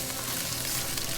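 Finely chopped stewed beef sizzles in a hot pan, giving a dense, steady crackling hiss that fills the whole moment without pause.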